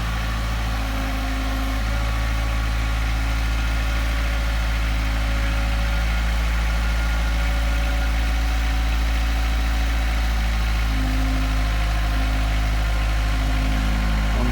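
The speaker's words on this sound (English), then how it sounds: "He's been tramming the tractor back and forth all day now." A farm tractor's engine runs steadily at close range while hauling loads of sand back and forth, a low, even drone with a constant rumbling hum and no pauses or voices.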